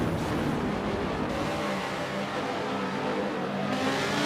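A racing Audi GT car's engine roars steadily throughout, a continuous loud drone with a shifting pitch as it charges down the front straight during an endurance GT race in a racing game.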